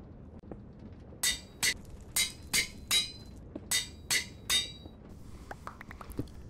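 A diamond hammer breaking blocks in Minecraft FTB Stoneblock, giving eight sharp, crisp crunching hits in a loosely steady rhythm, followed by softer scattered clicks and pops.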